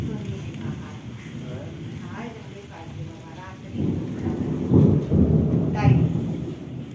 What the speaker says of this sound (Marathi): छान आणि मस्त असं गावी वातावरण झालं होतं पावसाचं आणि पाऊस सुद्धा पडत होता